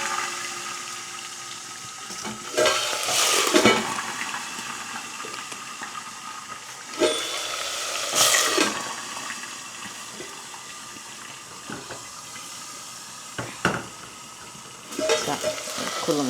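Curry leaves and potatoes frying in a pan with oil, giving a steady close sizzle with several louder bursts of stirring and hissing.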